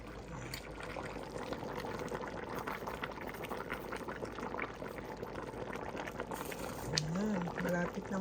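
A pot of nilagang baka with vegetables and bone marrow bubbles at a steady simmer, a soft continuous boil with small liquid pops, while a person talks over it at moderate distance.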